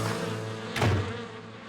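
Cartoon bees buzz around their nest, a brief rising swell of buzzing over a dense, busy background.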